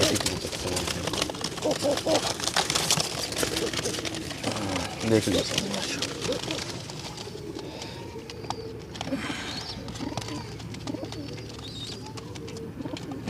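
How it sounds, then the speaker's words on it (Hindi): Pigeons coo softly and repeatedly in the background while someone talks over them, with occasional fluttering and rustling nearby, at a Sunday bird market in Multan, Pakistan, among them a large high-flying pigeon. "एक ये बड़ा परवाज़ी कबूतर है सर"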